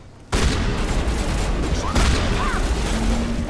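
Gunfire in Mass Effect 1 Legendary Edition, a dense sustained barrage of loud, close shots and booms following a brief quiet start, with game sounds mixed in.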